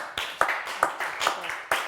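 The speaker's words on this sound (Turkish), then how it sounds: "Üzgün alkış geldi sevgili izleyenler" A short burst of sparse, slow clapping on a game show rings out as a few separate claps, fairly faint and close together, lasting under two seconds.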